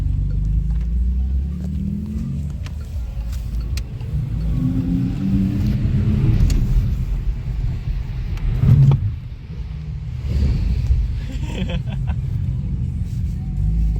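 A Porsche engine with its exhaust valves open rumbles nearby, deep and throaty, swelling in a few revving surges over a steady low drone with no talk.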